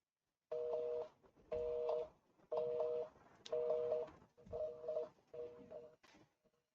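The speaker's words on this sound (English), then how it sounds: "you can use the dial pad to call someone." A run of six touch-tone beeps from the dial pad of an Android contacts app, evenly spaced and moderately loud with short gaps between them, then a faint final blip.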